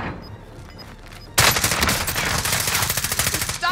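Rapid automatic gunfire erupts in the video game Army of Two, loud dense bursts starting suddenly after a quieter stretch of faint distant shots and continuing in a fast rattling stream.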